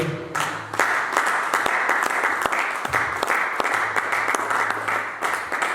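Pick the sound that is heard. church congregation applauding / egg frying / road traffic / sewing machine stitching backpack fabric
church congregation applauding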